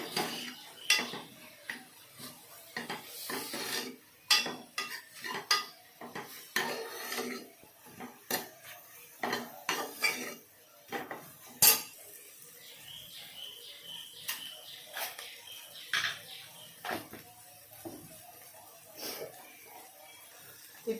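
Spices being stirred in a metal pan for chana masala, a spoon scraping and clinking against the pan in irregular taps and scrapes over about twenty seconds, close and moderately loud, with no talking.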